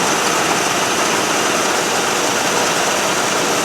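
The 360 two-barrel V8 in a 1979 Dodge Magnum runs at a steady idle, a loud, constant engine drone close to the microphone with no talking.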